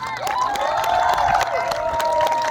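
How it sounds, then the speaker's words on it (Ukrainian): A crowd at a children's football team awards ceremony claps and cheers for the coaches, short bright applause with shouting voices over it. "Оплески тренерам!"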